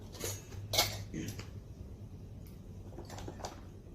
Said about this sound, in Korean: 큐티클을 제거했던 니퍼에 묻어있는 큐티클을 거즈로 닦아낸 후 에탄올이 담겨있는 유리볼에 넣어줍니다